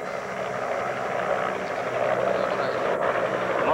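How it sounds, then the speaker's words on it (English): A formation of Cobra gunship helicopters passes over a military parade in Pakistan, a steady broadband rotor and engine rumble that slowly grows louder over crowd ambience. "और उसके बाद कोबरा गनशिप हेलीकॉप्टर्स की फॉर्मेशन"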